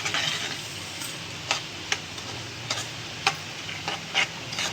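Semolina (rava) is stirred into hot sugar syrup in a pan for rava laddu, giving a continuous soft gritty scraping with a light sizzle and irregular spoon clicks against the vessel, close and steady without talk.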